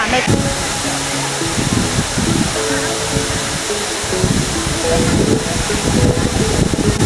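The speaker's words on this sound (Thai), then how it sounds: "เราก็อยู่ที่น้ำตกขุนกรจังหวัดเชียงรายนะคะ ความสูงของน้ำตกก็ประมาณ 70 เมตร" Khun Korn waterfall in Chiang Rai, about 70 m high, roars as a loud, unbroken rush of falling water close by, while someone talks over it.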